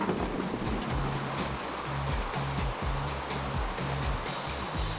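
A 4x4 vehicle crossing a creek, with steady rushing and churning water noise over a low engine rumble that rises and falls in repeated surges throughout; faint voices may sit underneath.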